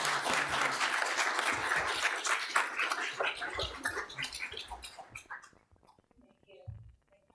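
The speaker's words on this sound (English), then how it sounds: "let's give Barb a round of applause first." Clapping from a group at a board meeting, a steady round of applause that thins out and fades over several seconds, with a few voices at the end.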